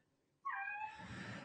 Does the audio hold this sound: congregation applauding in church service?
no